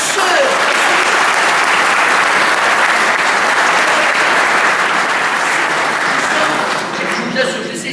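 A lecture hall audience at INPT breaks into loud, sustained applause, a dense wash of clapping that holds steady for several seconds before thinning toward the end.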